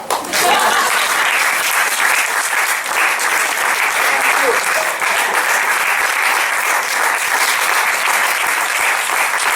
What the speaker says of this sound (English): If you have enjoyed, then you have to clap.